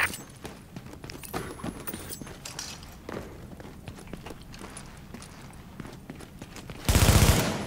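Gunfire in the shooter game The Division: steady rattling shots run throughout at moderate level, ending in a loud, dense burst of automatic fire.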